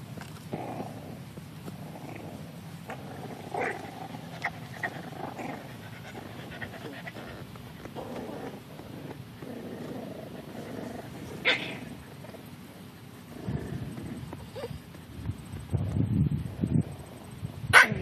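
Seven-week-old bulldog puppies growling, panting and snuffling while playing in grass, with low rumbles and scattered yips that build toward the end, close by and fairly quiet.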